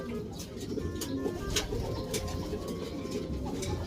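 A caught ringed racing pigeon at a loft coos softly and repeatedly amid faint outdoor background noise, with occasional brief chirps and rustling.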